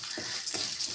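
Moong dal frying in oil with mustard seeds while being stirred, a steady close hiss of sizzling with a few soft scraping strokes, no voices.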